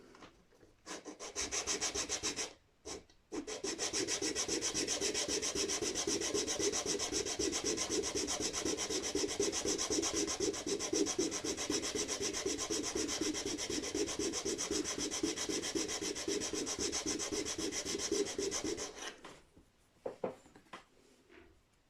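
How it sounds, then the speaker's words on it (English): Sandpaper rubs steadily against a wooden part of a 1994 Gibson Gospel acoustic guitar, a close, continuous scratchy stroking for about sixteen seconds after a couple of short starts, with no talk. "I think I want a heavier sandpaper to make this go as quick as possible"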